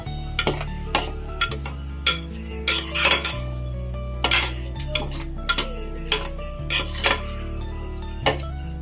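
A metal spoon stirs rice frying with mint in a pan, making repeated irregular clinks and scrapes against the metal over a steady low background hum.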